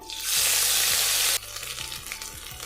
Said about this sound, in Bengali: মশলাগুলো ভালো করে ভেজে নিতে হবে